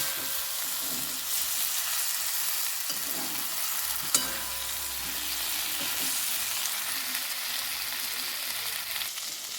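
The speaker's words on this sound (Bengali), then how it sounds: "এবার এই চিংড়ি মাছটা দিয়ে আমি কিছুক্ষণ কষতে থাকবো।" Prawns stir-fry with potato and cauliflower in a pan, giving a steady close sizzle and hiss broken by a spatula clack and soft scraping, with no talking.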